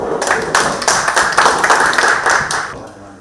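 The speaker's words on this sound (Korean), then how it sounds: "큰 박수로 부탁드리겠습니다" Audience at a Korean business MOU signing ceremony gives a short burst of applause, rhythmic clapping that rises and fades within a few seconds.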